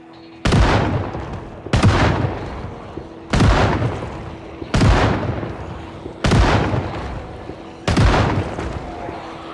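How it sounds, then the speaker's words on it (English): Six loud shotgun blasts from a video game, Project Zomboid, fire at steady intervals of about a second and a half. Each one is a sharp, booming report with a short ringing tail, and no one speaks. "Man, I love this shotgun."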